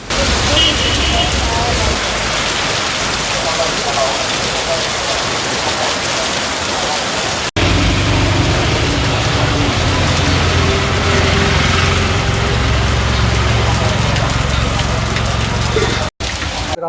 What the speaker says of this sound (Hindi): भारी बारिश हुई